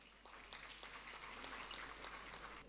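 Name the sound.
applause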